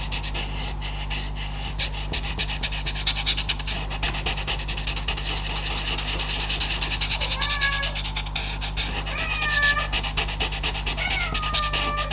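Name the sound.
cat meowing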